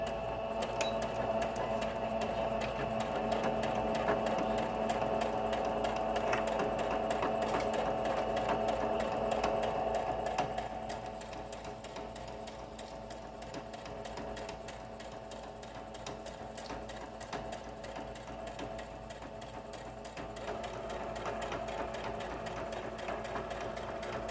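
A sewing machine back-stitches a seam on a fat-quarter tote bag, running in a steady, rapid mechanical patter, louder for the first ten seconds and then softer and quieter, with no talking.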